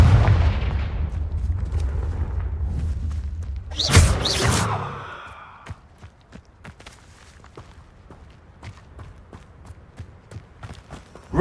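A Confringo fire spell bursts in Hogwarts Legacy with a loud blast that decays into a rumbling tail, then fades to quiet with sparse footstep-like taps.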